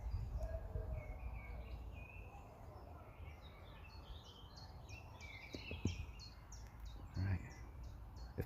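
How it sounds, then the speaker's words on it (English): Birds chirp and sing outdoors among trees at a stealth camping site, with repeated short high calls over a steady low rumble of wind or distant traffic, fairly faint throughout. "It's a lovely bird life."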